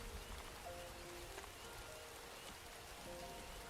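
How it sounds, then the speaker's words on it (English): Rain falling in the city-builder game Farthest Front, a soft, steady patter and hiss that stays faint and continuous throughout with no breaks. "Yeah, the rain sounds in this game are pretty good."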